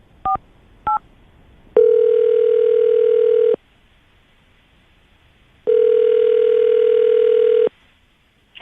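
A telephone call begins with two short keypad tones, then two long, loud, evenly spaced ringback tones with a pause between them, and no voices.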